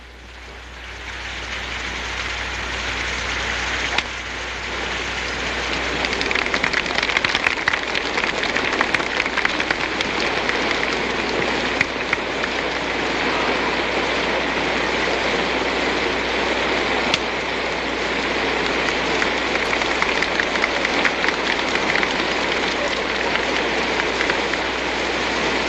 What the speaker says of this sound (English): And then it began to rain.